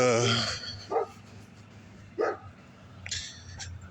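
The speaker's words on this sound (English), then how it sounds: "That dog need like one of them anti-bark collars or something, man." A dog barks several times at a distance: a sharp bark at the start, then single barks spaced about a second apart, over outdoor background hum while someone talks nearby.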